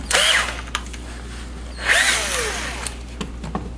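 A power drill whines in two bursts while pre-drilling holes into the wooden bottom supports of a MAME arcade cabinet, each burst rising then tapering, with a few light clicks and knocks between them.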